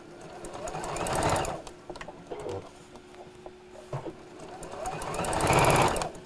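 A sewing machine hems a Christmas apron in rapid whirring runs, speeding up and slowing between pauses with a few mechanical clicks, close and clear.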